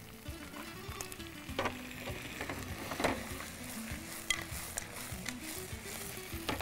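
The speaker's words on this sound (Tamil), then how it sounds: "இப்போது இந்த காடையை போட்டுடலாம்." Quail pieces sizzle in a hot pan, a steady crackling fry with occasional scrapes and clinks of a utensil stirring, close and moderately quiet, no voices.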